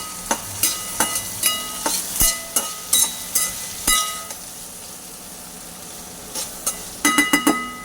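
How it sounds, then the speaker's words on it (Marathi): Cluster beans (gavar) cooking in a pan, a soft sizzle under a series of sharp metallic clinks and scrapes from a utensil against the pan, pausing for a quiet stretch before a final quick burst of clinks. "गावरी आपली भाजत आहे चांगली"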